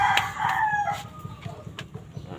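Broiler chickens and a rooster inside a coop, with a crow rising at the start over a steady clucking, pecking murmur of the flock, followed by sharp scattered clicks and scratches nearby.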